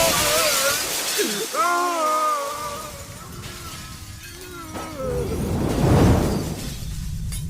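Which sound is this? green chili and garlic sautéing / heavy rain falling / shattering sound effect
shattering sound effect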